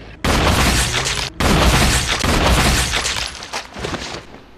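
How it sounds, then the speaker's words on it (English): A grenade explosion in the video game Resident Evil, a loud booming blast with crackling, shattering debris that cuts out briefly, then roars on and slowly breaks up into scattered bursts. "You saw me get hit by the grenade explosion"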